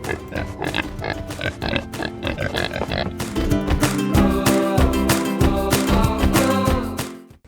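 American guinea hog pigs grunting and squealing in a pasture corral, a dense run of close, overlapping grunts through most of the clip that fades out at the end.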